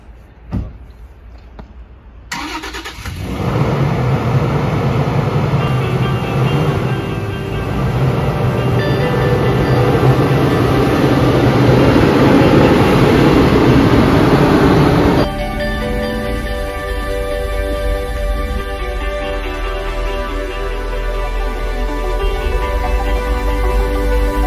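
A 4x4 off-road vehicle at nearly 3000 metres in the Western Alps starts up and drives off, a loud steady engine rumble with rolling mechanical noise, close and continuous after a brief quiet start.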